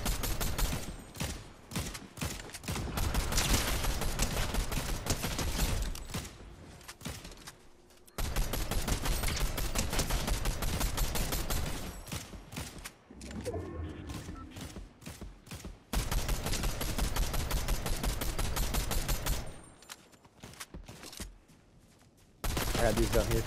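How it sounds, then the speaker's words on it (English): Artillery fire in Fortnite rattles in long dense volleys of rapid explosive bursts, loud and continuous with brief gaps, while a voice speaks faintly underneath. "It's artillery fire"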